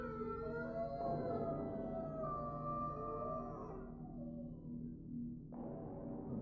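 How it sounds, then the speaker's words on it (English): Eerie dog howls from the game Silent Hill 3, long wavering tones layered and sliding over a droning background, sustained and fairly loud with no talk over them. "Did anyone else hear dogs howling at a moon?"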